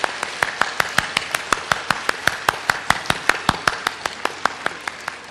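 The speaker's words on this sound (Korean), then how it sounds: "박수 치세요." An audience at a Korean-language religious rally claps in steady unison, about four crisp, loud claps per second, close and even throughout, with no talking.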